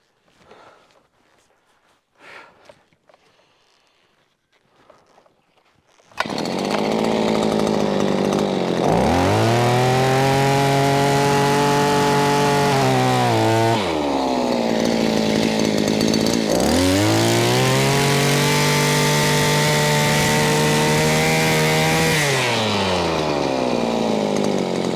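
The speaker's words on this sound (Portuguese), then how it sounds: "Vou tentar furar aqui." A powered drill bores a hole into rocky, stony ground, starting after several seconds of quiet with a loud, close motor roar that sags and rises in pitch as the bit bogs against stone, running steadily to the end.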